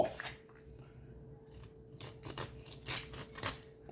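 A sharp knife cuts through the backbone of raw chicken quarters, making a series of close crunching, snipping cracks in an irregular rhythm. The cracks grow louder and denser toward the end, over a faint steady hum, with no talking.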